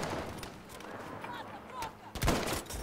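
Sniper rifle shots in Battlefield V gunfire, a couple of sharp cracks with the loudest blast near the end, over game ambience and someone talking.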